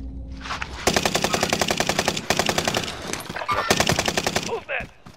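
Automatic gunfire in the Warzone video game rattles in rapid loud bursts, one long stream broken by a short pause and a second burst, with game ambience around it.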